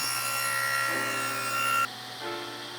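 A power saw set a quarter inch deep cuts a slot into a wooden block, a close, steady high whine with a grinding bite that drops off abruptly as the blade leaves the wood.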